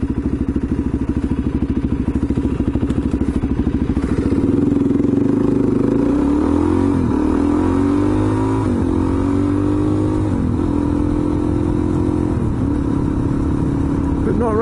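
A KTM 390 motorcycle rides past on the road, its engine note climbing and shifting as it nears and pulls away, with a steady rumble and clattery edge under ongoing talk.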